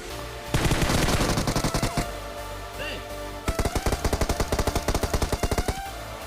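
Automatic gunfire in PUBG on the Erangel map, loud, close bursts of rapid shots in two long volleys with a brief pause between them.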